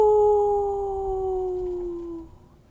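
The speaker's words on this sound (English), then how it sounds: "Feliciana heard a fainter howl a little further out in the swamp." A long, fainter howl rises from somewhere out in a still swamp, one sustained mournful tone sliding slowly downward for about two seconds before it fades out, heard alone with no voices.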